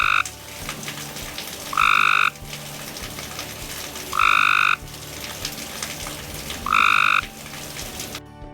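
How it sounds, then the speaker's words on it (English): A Cope's gray tree frog repeats a loud, harsh trilling call in three evenly spaced bursts of about half a second each, close and clear over a steady chorus of other calls and night noise. "If you hear a loud trilling belch, it could be from your neighbor, or it could be from a Cope's gray tree frog"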